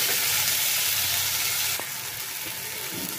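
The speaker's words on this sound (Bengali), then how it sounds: "তো এখন আমি লো ফ্লেমে এটাকে নাড়াচাড়া করব।" Grated carrot and a green chilli are stirred in hot oil over a low flame, giving a steady, close sizzle. It softens partway through, with a single sharp scrape of the spoon.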